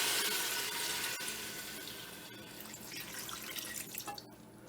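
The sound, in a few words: turkey juice poured into pot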